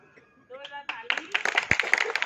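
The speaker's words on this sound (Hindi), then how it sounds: "हम सभी लोग तालियां बजाएंगे" Audience clapping at a Maha Shivaratri spiritual gathering, starting scattered and swelling into steady, dense applause from many hands over a short stretch, with some voices mixed in.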